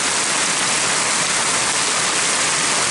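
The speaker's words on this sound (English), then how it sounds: "now it's laying down some rain. I mean, it is coming a flood." Heavy rain pours down in a dense, loud, unbroken wash of hiss that stays constant throughout, with no voices.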